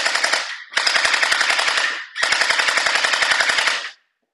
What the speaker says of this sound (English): So definitely shooting good. Strong, fast.